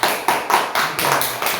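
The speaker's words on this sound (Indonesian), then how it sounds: "silakan tepuk tangan dulu" Group of people clapping together in a classroom, about seven sharp, evenly spaced claps in a quick steady rhythm, fairly close and loud.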